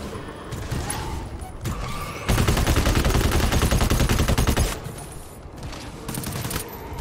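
Gunfire in the co-op shooter GTFO, a sustained burst of rapid automatic fire lasting a few seconds, framed by quieter scattered shots and background game noise.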